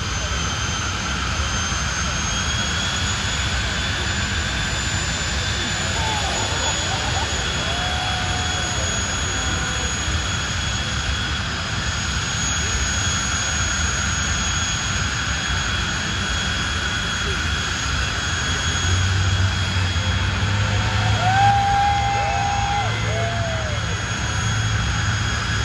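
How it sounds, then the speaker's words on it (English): Jet car engine roaring at an Orlando Speedworld drag strip, a sustained loud turbine-like howl with a steady high whine, heard continuously throughout with crowd noise in the background. "Wow, sounds just like a jet."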